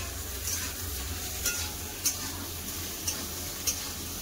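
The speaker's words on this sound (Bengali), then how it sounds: "ঝিঙ্গা আলু ভাজা হচ্ছে" Ridge gourd and potatoes with onion sizzle steadily in a pan, a continuous frying hiss punctuated by a few light spatula scrapes and taps, close and unvoiced.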